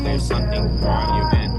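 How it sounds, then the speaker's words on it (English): Crickets chirp as a steady high trill woven into a song, running under a singing voice and backing music. "Right there, you hear the crickets chirping."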